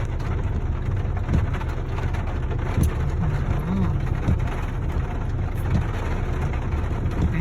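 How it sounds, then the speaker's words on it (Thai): Heavy rain pours down steadily during a dark storm beside a waterside road, a dense continuous hiss with faint low rumbles beneath and no talking. "วันนี้ฝนตกหนัก"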